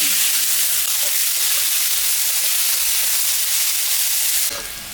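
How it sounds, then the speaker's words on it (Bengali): Onion frying in oil with bay leaf, dried chilli and cumin makes a loud, continuous sizzle close up, with a stirring movement and then a sudden drop in loudness near the end. "পেঁয়াজটা ভাজা ভাজা হয়ে গেছে"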